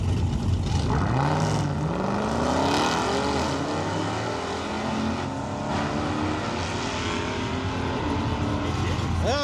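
At a car cruise event, a Dodge Hellcat and a classic American muscle car race off, their engines roaring and revving loudly with rising gear pulls, while people talk over the noise.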